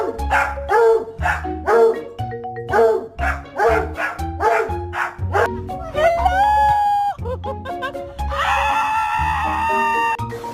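A dog barks repeatedly in a fast, rhythmic string of loud, close yaps, then gives a drawn-out whining howl and a sustained high-pitched cry.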